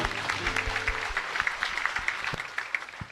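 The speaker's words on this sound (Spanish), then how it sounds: "Fuerte aplauso para el Señor." A church congregation claps during Mass at Cristo Rey parish in Luque, steady applause with sharp individual claps standing out, fairly loud and filling the room throughout.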